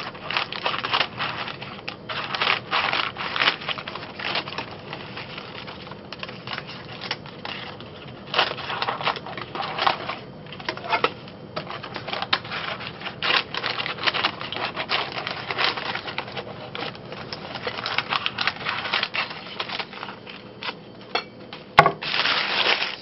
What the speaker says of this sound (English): take a pair of scissors and trim around it, leaving about a centimeter